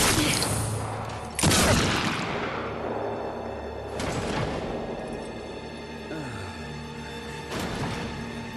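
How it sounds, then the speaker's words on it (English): Gunshots in the Darksiders 3 video game during a boss encounter with Lust, several sharp loud booms spaced a few seconds apart, each trailing into a rumbling decay over ambient game sound. "She talks a lot, but get interrupted by gunshots."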